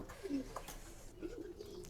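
Pet pigeons cooing softly in two short low murmurs, close by against a faint background hum, with no talking.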